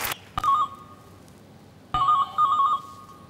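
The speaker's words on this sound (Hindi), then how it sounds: "किसका फोन बज रहा है भाई?" A phone ringtone plays a short warbling electronic tone, pauses for over a second, then rings twice more in quick bursts, clear over quiet room noise.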